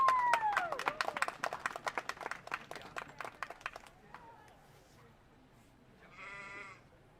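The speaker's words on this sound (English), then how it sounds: "big round of applause for our junior showman in the sheep show" Scattered clapping from a small audience at a county livestock show's junior sheep showmanship class, sharp claps fading out after a few seconds, followed by a clear sheep bleat nearby.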